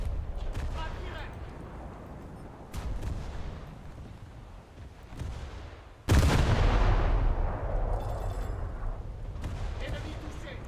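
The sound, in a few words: naval shell hits and torpedo detonation in a warship video game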